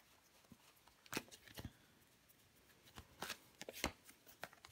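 Tarot cards handled and laid down on a table, a series of faint, close flicks, slaps and soft shuffling snaps in an irregular rhythm, quiet overall and without talk.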